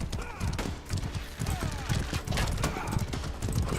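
Horse hooves galloping in the medieval combat video game Mordhau, a rapid rhythmic clip-clop running continuously under a talking commentator amid busy battle noise.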